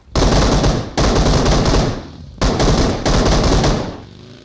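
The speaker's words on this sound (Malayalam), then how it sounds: "അവിടെ വെടിവെക്കണ സൗണ്ട് കേൾക്കണ്ടേ" Machine gun fire in a video game comes in four long, loud, sustained bursts separated by short gaps, with no voices over it.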